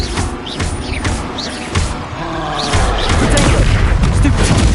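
A Depulso spell cast during a fast duel in Hogwarts Legacy, loud magical blasts and booming impacts layered with overlapping combat effects in a dense, continuous barrage.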